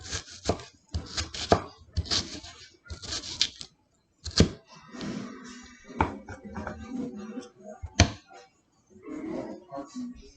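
A knife chopping onion on a cutting board for breakfast tacos, with quick clusters of sharp, close taps, then scattered single chops and rustling, broken by short pauses.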